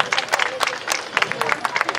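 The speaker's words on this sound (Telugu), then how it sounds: "ఒకసారి పిల్లలందరికీ పెద్దవాళ్ళని చప్పట్లు కొడదాం." Schoolchildren clap for their elders at a Shishu Mandir school gathering in Venkataramana Colony, Telangana. Brisk, uneven claps from a group ring out nearby, with a faint murmur behind them.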